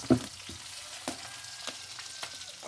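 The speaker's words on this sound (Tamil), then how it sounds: "அந்த முட்டையை பொரிக்க போறாங்க" An egg frying in oil sizzles steadily in a pan with a constant hiss, broken by a few sharp pops and spatters, fairly close.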